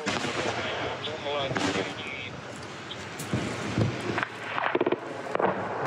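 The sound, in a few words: explosions from shelling, war footage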